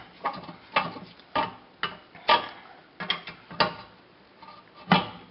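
A ratchet tightens a bolt on the rear brake of a VW Golf Mk4 or Mk5 during a brake pad change, giving about nine short, sharp clicking bursts at an uneven pace, close and alone.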